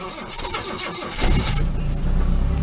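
A Rover P6 engine with the choke pulled out cranks with a steady rhythmic churn from the starter, then catches about halfway through and runs on loudly at a rough, rising idle, close by.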